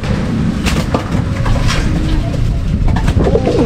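Racing pigeons from a MacArthur combine line coo in a loft, a steady soft murmur of several birds close by with a faint voice underneath.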